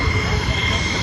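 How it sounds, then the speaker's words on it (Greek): An F-16 Block 52+ fighter jet taxiing during a military parade gives a loud, steady engine roar with a broad rumbling whine, continuous through the short moment. "βλέπουμε να τροχοδρομεί το αεροσκάφος F-16 Block 52+, από την αεροπορική βάση"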